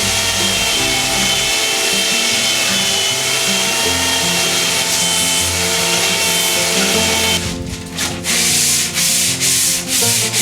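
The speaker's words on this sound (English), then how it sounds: "Sanding of the high points." A power sander grinds continuously against the wooden hull of a catamaran, loud and close, its steady rasp briefly interrupted by a few short pauses toward the end.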